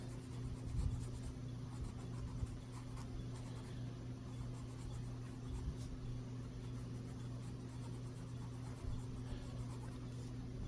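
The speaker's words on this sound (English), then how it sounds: "I definitely enjoy burnishing with a colored pencil, the lightest of the colors" Colored pencil burnished firmly over paper gives a steady, soft rubbing scratch that runs throughout, close and quiet, over a low constant hum.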